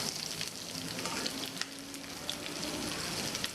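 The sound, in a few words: onion frying in pan for Thai red curry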